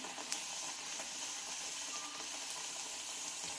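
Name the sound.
urad dal vada frying in oil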